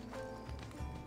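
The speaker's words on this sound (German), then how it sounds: "Da rennt mein Pferdchen weg." A horse in Assassin's Creed Odyssey runs off, its hooves giving a short run of soft, muffled clip-clop beats under a low game ambience.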